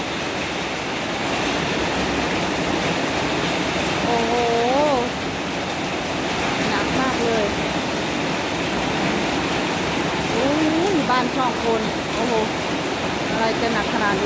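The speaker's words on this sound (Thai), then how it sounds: "ฝนเข้ามาอย่างนี้ ห้องคงจะเปียกหมดเลยเนาะ" Heavy wind-driven rain roars steadily and loudly at a house, a dense hiss of downpour, while a voice talks faintly beneath it at a few points.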